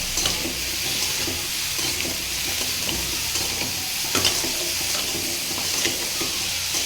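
A pan of chopped pumpkin with salt and turmeric sizzles steadily while being stirred, with occasional scraping clicks from a utensil against the pan, close by and continuous.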